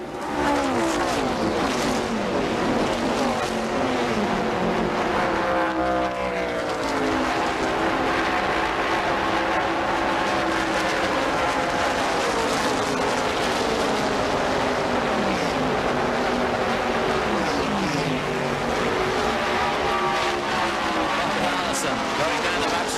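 Stock cars racing in the 1981 Daytona 500 roar past continuously at high speed, their loud engine whines rising and falling in pitch as they pass, with commentary running over the top throughout.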